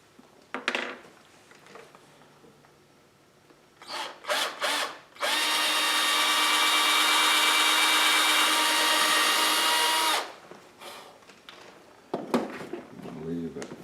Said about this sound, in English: Find a good spot to make the drill hole